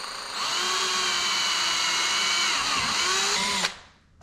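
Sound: power drill drilling pilot holes for Corvette conversion kit

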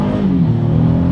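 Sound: Honda Passport SUV accelerating hard from launch in first gear

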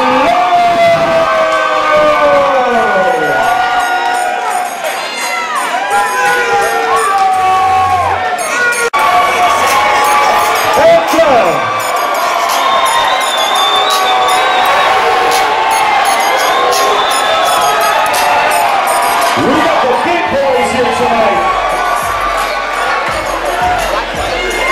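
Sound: crowd cheering at fight event

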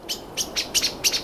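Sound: common blackbirds scolding a Ural owl

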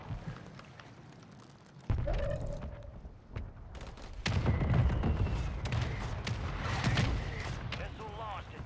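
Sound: gunfire in the video game Call of Duty

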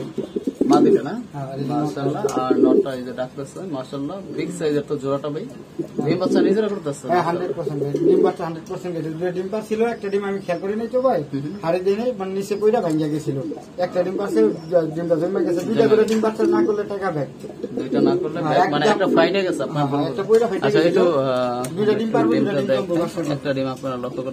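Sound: fancy pigeons cooing, a pair sitting on eggs

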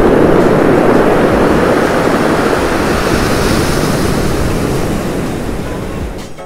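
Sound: strong ocean waves crashing on rocks

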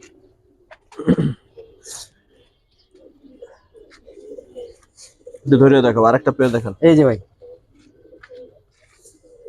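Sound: pigeons cooing at a pigeon sale

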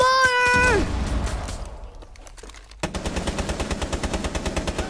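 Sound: machine gun fire with heavy recoil in Rainbow Six Siege video game

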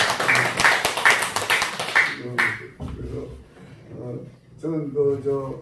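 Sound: applause

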